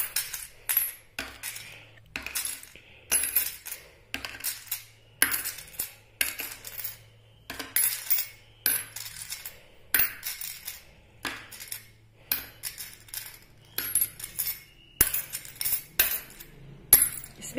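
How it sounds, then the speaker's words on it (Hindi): Coins drop one after another into glasses during a lucky-guess kitty party game, making a steady run of bright metallic clinks and chinks, close and fairly loud, with no talking. "वो किस में कितने कॉइन डालता है। 20 कॉइन उसको डालना है।"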